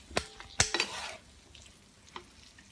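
German salami frying in a pan with its fat melting, a few sharp scrapes and stirs against the pan over a faint sizzle, close and fairly quiet.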